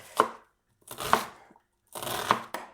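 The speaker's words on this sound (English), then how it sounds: "One of my least favourite things in the entire world is chopping onion" Onion being chopped on a chopping board: three distinct knife strokes with crunchy thuds, close and clear, spaced about a second apart with quiet gaps between.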